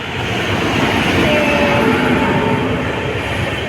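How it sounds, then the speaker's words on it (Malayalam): A train rumbles past close by, a loud continuous roar of wheels and carriages with faint squealing tones. "അടുത്ത ട്രെയിൻ വരുന്നുണ്ട്"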